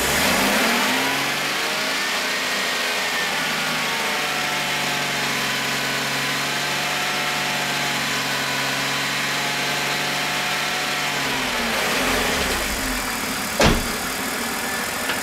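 A BMW E46 engine idles, then revs to about 3000 RPM and holds there with a steady, rising mechanical drone before dropping back toward idle. A brief click follows near the end.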